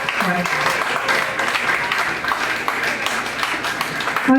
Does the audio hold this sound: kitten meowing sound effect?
no